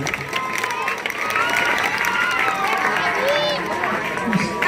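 Crowd at an MIM political rally in ward 12 applauding and cheering steadily, a dense, loud wash of clapping and shouts with voices calling out over it throughout.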